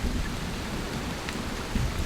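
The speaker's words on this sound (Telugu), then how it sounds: "పొద్దునయ్యేసరికి బీభత్సమైన వర్షం మొదలైంది." Heavy rain sound effect from a cartoon story, a dense steady downpour with a low rumbling undertone like thunder throughout this short stretch, with no voices.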